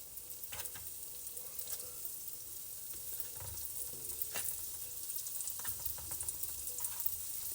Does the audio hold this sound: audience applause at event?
no